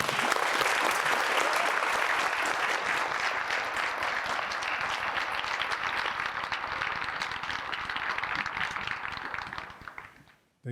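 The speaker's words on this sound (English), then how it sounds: "Can we give Dr. Wilson another round of applause?" An audience at a Utah Valley University MLK commemoration gives a keynote speaker a long round of loud applause that holds steady for about ten seconds, then fades out quickly.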